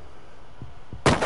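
A gunshot in the video game CRSED (Cuisine Royale) cracks out loud and close at the very end, preceded by two soft thuds over a low background hum.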